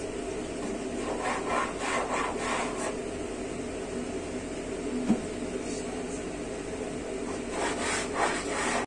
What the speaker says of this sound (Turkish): Şimdi oklava açıyoruz.